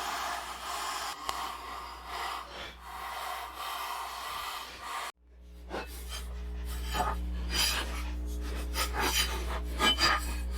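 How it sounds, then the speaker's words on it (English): A homemade spatula's edges are worked with a hand file, producing scratchy rasping strokes, first a steady rough scraping and then, after a short gap, sharper irregular strokes over a low hum. "I probably intend to file these edges here and get them so they aren't"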